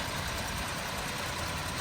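A 2016 Jeep Grand Cherokee Overland's 3.6 liter V6 idles with the hood open, a steady, even hum with no talking over it.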